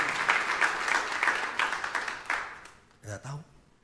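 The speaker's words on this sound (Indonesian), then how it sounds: "Tepuk tangan yang paling meriah." Audience in an Indonesian church service clapping loudly and enthusiastically, bursts of applause running under a preacher's voice before fading, followed by a brief spoken phrase.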